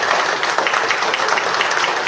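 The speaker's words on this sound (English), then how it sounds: "go ahead and give these guys a round of applause" An audience at a meeting applauds steadily, a dense, continuous wash of many hands clapping fairly close, with no talk over it.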